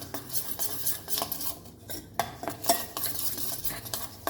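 Tandoori masala marinade being mixed in a bowl, with a spoon clinking and scraping against the sides in irregular bursts, close and fairly quiet, with no voices.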